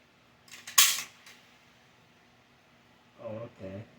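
A foam disk shooter toy fires once with a sharp, loud snap and whir, then goes quiet; a voice is heard briefly afterward.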